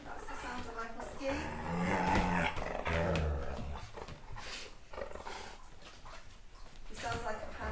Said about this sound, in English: That's the sound of my husky.